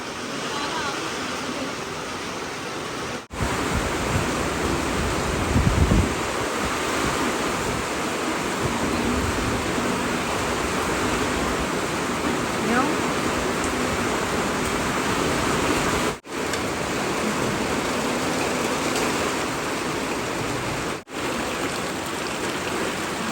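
Heavy rain pours steadily over a farm field in the Philippine countryside, a dense continuous hiss that stays loud with only brief dropouts, while a few voices talk faintly beneath it.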